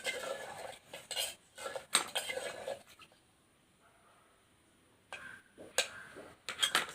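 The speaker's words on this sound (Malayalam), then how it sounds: "അതിനുശേഷം ഇത് ഒന്നുകൂടെ ഒന്ന് ഇളക്കി കൊടുക്കുക" A spoon stirring a mixture in a vessel, with clinking scrapes in bursts, a pause of near quiet in the middle, then more clattering strokes, close and moderately loud.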